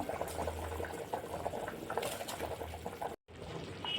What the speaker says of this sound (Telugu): ఇప్పుడైతే మనము కడిగి ముందుగా నానబెట్టుకున్న బియ్యాన్ని ఇందులో యాడ్ చేసేసుకుందాం